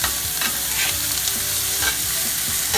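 Onions and carrots frying over medium heat in a pan alongside steak, a loud, steady sizzle with repeated scraping and stirring strokes close by, no voices.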